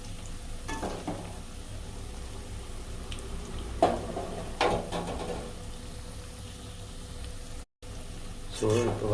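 Cauliflower 65 deep fries in hot oil with a steady bubbling sizzle, broken by a few louder stirring or turning bursts and a brief dropout near the end.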